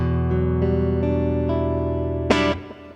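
A clean electric guitar played through a BOSS GX-100 with compressor, delay and reverb plays a few sustained notes and chords with a compressed, even tone, soft echo repeats and a reverberant tail, then a brighter strum.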